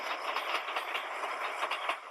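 A subway train rumbles past with a steady, dense rushing clatter of wheels on rails, fairly loud and continuous throughout, with faint rhythmic clicks and no voices.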